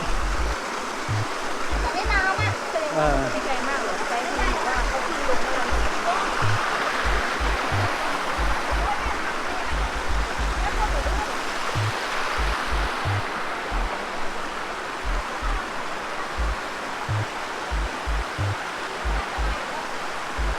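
Kinnari waterfall in Bueng Kan, Thailand, a steady broadband rush of falling water that holds evenly throughout, with voices talking faintly beside it and soft footsteps or bumps at intervals.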